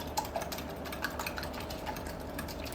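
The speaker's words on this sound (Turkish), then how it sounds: "Sonra da çırpıcı yardımıyla güzelce çırpıyorum" Three eggs being beaten in a bowl with a hand whisk, a steady run of light, rapid ticking strokes close by, fairly quiet, with no voices.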